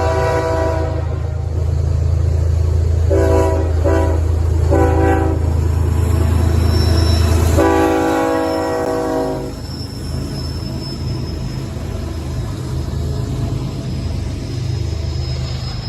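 A passing train led by a 68N locomotive with a CN-patched City Rail GVO trailing third, its horn sounding in several loud blasts over a heavy rumble that fades as the train moves on.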